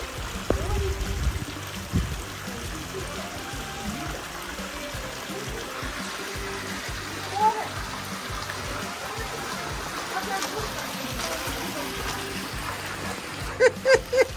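Water trickles and splashes steadily through a pondless waterfall, a soft continuous babble with brief splashes, while people talk quietly nearby and a dog moves about.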